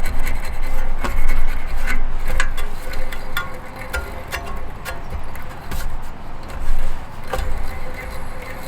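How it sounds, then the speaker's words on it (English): A shaft being sanded by hand on an HVAC job, a continuous rough rasping scrape with scattered sharp ticks, close and loud over a low background rumble. "So this is usually what I do to sand out the shaft"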